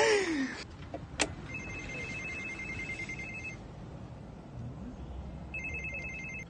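A telephone rings in two bursts of electronic trilling, separated by a pause, at moderate loudness in a quiet room, after a brief clatter at the start.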